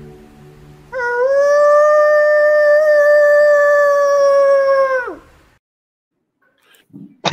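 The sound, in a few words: person imitating a wolf howl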